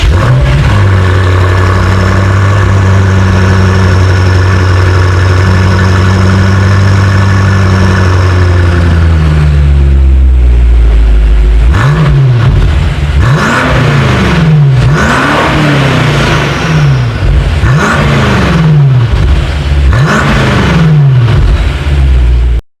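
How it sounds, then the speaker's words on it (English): A BMW M5 exhaust rumbles at a loud, steady idle for about ten seconds, then a series of sharp throttle blips rises and falls in quick, evenly spaced revs, close and alone. "let me let you guys hear it for yourself, and as always, here is that exhaust clip"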